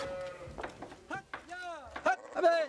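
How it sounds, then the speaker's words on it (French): Sheep bleat in a flock on the salt meadows near Mont Saint-Michel, a cluster of overlapping wavering cries, some near and some farther off, fairly faint. "Son troupeau compte plus de 1000 moutons."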